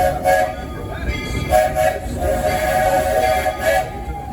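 The Walt Disney World Railroad train at Magic Kingdom rumbles along loudly and close, with a steam whistle sounding in short blasts over the running noise, and faint speech beneath.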